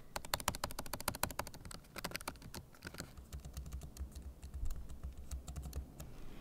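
Fast, crisp clicking of typing on the scissor-switch keyboard of an M2 MacBook Air, a dense run of light keystrokes heard close up and alone, without speech.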